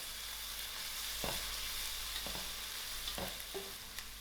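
Ginger, garlic, thyme and curry leaves are stirred in a hot pan for a curry, a soft steady sizzle with a few scraping strokes of the spoon, no talking.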